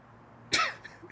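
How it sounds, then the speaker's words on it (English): A single sharp cough, close and sudden, breaking a quiet background and fading quickly. "The cough throws me off a little bit."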